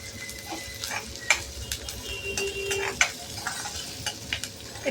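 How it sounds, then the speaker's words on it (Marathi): Onions sautéing in oil in a pan, a steady soft sizzle broken by occasional stirring scrapes and light clinks of a utensil against the pan, close and fairly quiet with no talking. "एक 5 मिनटं आपण याला परतून घेणार आहे कांद्याला."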